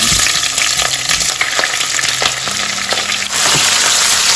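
Onions fry with bay leaf and fennel seeds in a pan, producing a loud, dense, continuous sizzle close up, with a few stirring knocks and a short dip before the hiss surges again.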